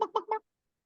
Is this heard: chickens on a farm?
yes